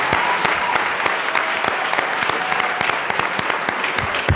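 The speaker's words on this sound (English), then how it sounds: "we should make sure that they hear our applause for them" Steady applause fills a legislative chamber in the Colorado House, with a crowd of lawmakers clapping continuously at moderate volume for several seconds and no voices on top.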